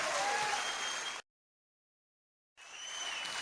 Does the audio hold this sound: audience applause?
yes